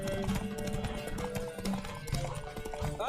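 A horse gallops during a race in the video game The Witcher 3, its rapid clip-clop hoofbeats loud and continuous with rushing wind, and a brief snort or whinny near the end.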